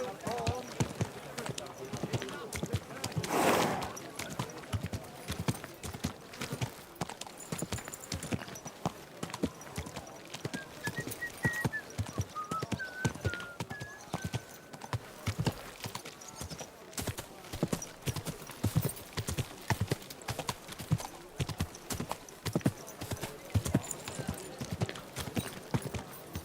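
Horse hooves clip-clop steadily on ground in the game Kingdom Come Deliverance II, a continuous rhythmic gait that stays moderately close for the whole stretch. Voices speak over the hoofbeats now and then.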